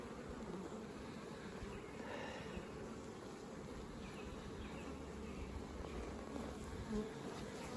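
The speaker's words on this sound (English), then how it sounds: "Beautiful little bee." Honeybees buzz around a hive entrance on the first day of spring, a soft, continuous, faint hum of many wings with no one speaking.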